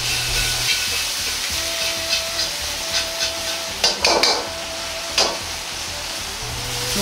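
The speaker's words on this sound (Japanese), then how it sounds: "ニンニクの表面が色づいてきたら、豆板醤小さじ1を入れ炒めます。" Garlic and doubanjiang chili bean paste sizzle steadily in a pan over medium-low heat, with a spatula scraping and stirring and a few louder clanks against the pan, close and continuous.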